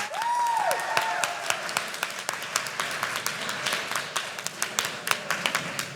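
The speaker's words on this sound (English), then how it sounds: "A round of applause if you think the student team won today" A school debate audience at Melbourne High School breaks into scattered applause, individual claps distinct and uneven, fairly close, fading toward sparse claps, with a brief rising tone at the start.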